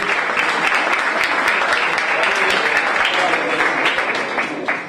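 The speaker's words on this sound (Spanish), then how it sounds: "para el que pedimos un aplauso." An audience at a talk given by a member of the Scottish Socialist Party claps steadily for about five seconds, dense, close applause that fades slightly at the end.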